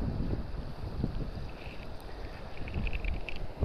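Wind gusting across open ice during winter ice fishing with a jig, a steady low roar and buffeting on the microphone, continuous and fairly loud, with no voices.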